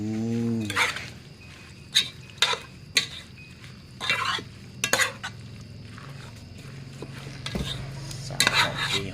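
Stirring food in a pot after ingredients are poured in: a utensil scrapes and clinks against the pot in irregular strokes over a low background hiss.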